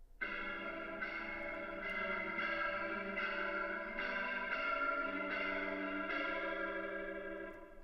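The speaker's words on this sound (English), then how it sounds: "I'm using the rotary cabinet and I have it on the fast setting, and it's just a really fun post effect." A GarageBand rotary cabinet effect on its fast setting swirls a sustained chord into a rapid, warbling shimmer, with the tone pulsing in regular waves throughout, loud and steady with no talking.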